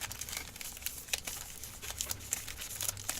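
Plastic wrappers on Elite Extra Edition card packs crinkle and crackle as the packs are handled and torn open, a steady run of close, dry rustling with sharper snaps scattered throughout and no talking.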